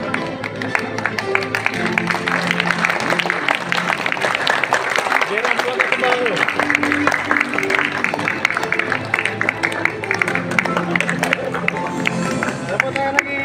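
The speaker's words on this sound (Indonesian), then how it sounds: "Ayo tepuk tangan." An audience at a formal gathering applauds steadily, the dense clapping and crowd murmur continuing without a break over the whole stretch.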